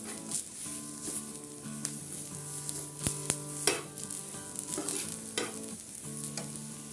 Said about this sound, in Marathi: मिडियम गॅसवरती आपल्याला हे छान असं भाजून घ्यायचे